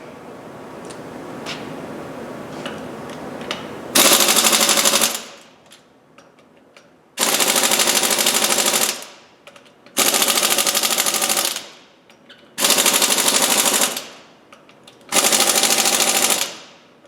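Five loud, near bursts come from an impact wrench with a torque stick tightening lug nuts on a wheel during a tire install. Each rattling hammer burst lasts about a second and a half, separated by short quiet pauses.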